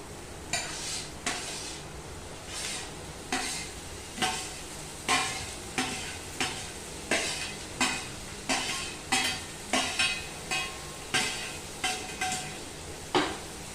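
Capsicum and tomatoes frying in butter in a pan, under a steady soft sizzle. A spatula scrapes and taps the pan in a regular rhythm of about one stroke per second, close and fairly loud, with no voices.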